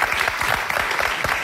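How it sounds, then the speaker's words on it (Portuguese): Studio audience applause on a 2011 Portuguese RTP1 television variety show, a steady dense clapping that carries through the whole short stretch at close, even loudness. "Um aplauso para João Morgado."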